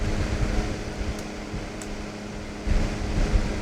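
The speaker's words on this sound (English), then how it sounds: "I apologize for the fan noises." Computer fan whirring steadily as a constant broadband hum and hiss with a faint low drone, near and fairly loud, with occasional light clicks and bumps over it.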